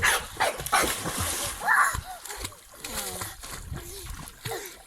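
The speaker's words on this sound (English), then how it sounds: "Are you gonna go and swim now, Gogos?" A dog leaps into water and splashes about to swim, with barking and yipping mixed in while people talk and call out close by.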